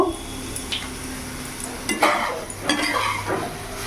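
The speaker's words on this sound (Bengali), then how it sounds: "একটু মশলার সাথে আমি একটু কষিয়ে নেব।" Sliced pointed gourd frying with spices in a hot pan, a steady sizzle joined by several scraping stirs of a spoon against the metal, close and clear with no voices.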